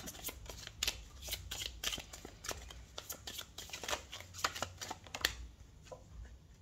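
Tarot cards shuffled and drawn by hand, a rapid run of crisp riffling flicks and soft slaps that come in uneven bursts, close and fairly quiet over a low background rumble.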